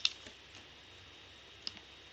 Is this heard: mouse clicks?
yes